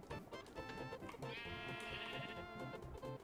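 Sheep bleating in the Minecraft video game, a few wavering calls over a busy layer of game sounds and music, fairly loud and continuous throughout.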